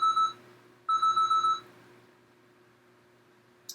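A workout timer gives one short electronic beep, then a pause, then a quicker run of four beeps, followed by quiet room tone. There is no talking.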